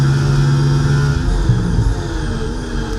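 A red Ferrari Formula 1 car in the F1 24 racing game at the Spanish Grand Prix in Barcelona, its engine holding a loud, steady high-revving drone that shifts pitch and eases slightly toward the end.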